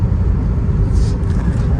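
A car cruising on a highway at the speed limit gives a loud, steady interior road rumble with a broad low drone of tyres and engine, unbroken for the whole stretch.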